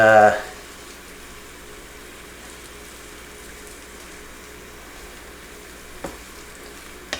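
Sauce sizzles steadily in a pan as it is stirred. A brief loud hiss at the start settles into a low, even crackle, with a couple of faint knocks near the end.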